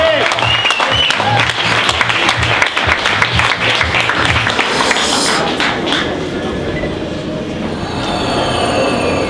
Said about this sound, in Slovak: A poprosím veľký potlesk